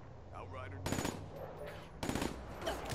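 Automatic gunfire in Call of Duty: Black Ops 3, two short rapid bursts about a second apart, loud and close over faint background game sound.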